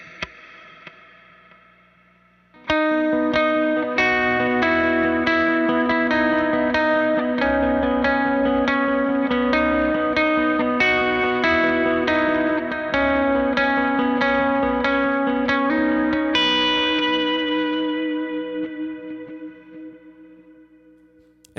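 Guitar run through a Mercury X pedal on its Haze Cloud reverb preset: a steady strummed or picked passage washed in smooth, diffuse reverb that swells and holds, then trails off slowly into a long decaying tail at the end.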